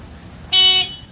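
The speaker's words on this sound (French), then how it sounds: "Que le klaxon fonctionne" A Suzuki GS 750 motorcycle horn sounds once, a steady loud electric tone lasting about a third of a second over faint background hum.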